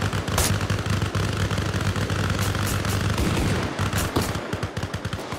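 Rapid automatic gunfire from a player in the video game Arma Reforger, loud sustained bursts with a few sharper single shots and echoing cracks, no voices.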